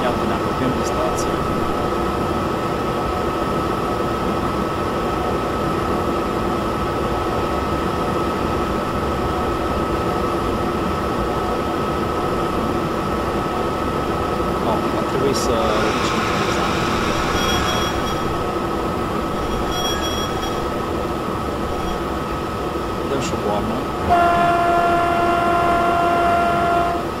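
A passenger train in a train simulator game rolls toward a station with a steady, droning rumble of wheels and motors, a few brief squeals and clicks, and a brighter tonal whine rising near the end.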